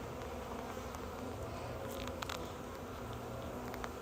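Honeybees droning around an opened hive during a winter inspection, a steady, close, diffuse buzz with no talk, with faint brief clicks and knocks now and then.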